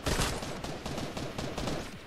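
Rapid burst of gunfire from a lever action shotgun in a video game, several quick successive shots crackling over about two seconds at moderate volume.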